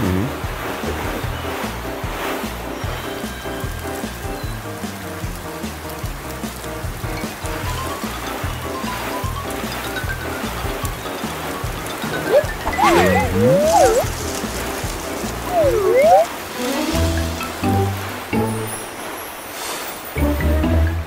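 Cartoon water waves surge and wash in an animated monster truck adventure, a loud churning swell with splashy bursts layered under a busy music score and chirpy sound effects near the end.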